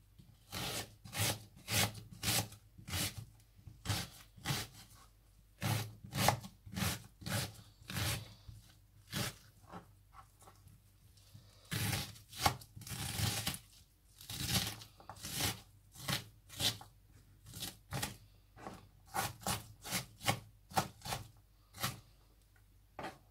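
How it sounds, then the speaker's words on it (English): Repeated knife strokes roughly chop four onions on a cutting board in quick bursts with short pauses, steady and close. "So I'm now chopping them."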